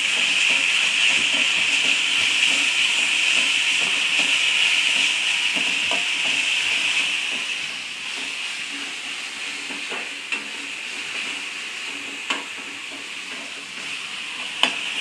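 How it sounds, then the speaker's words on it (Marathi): Green chilies, garlic, cumin and coriander sizzle steadily in a pan while being sautéed for a green chili and coconut chutney. The hiss is loud at first, eases partway through, and carries occasional light stirring clicks. "हिरवी मिरची लसूण जिरं कोथिंबीर चांगली परतू द्यायची"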